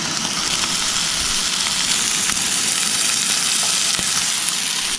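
Food fries in a non-stick pan at a remote campsite, giving a steady, dense sizzle that stays loud and close throughout, with faint scraping from stirring.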